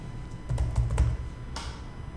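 Typing on a computer keyboard, a quick cluster of close key clicks followed by a single later tap over a low steady background hum, with no talking.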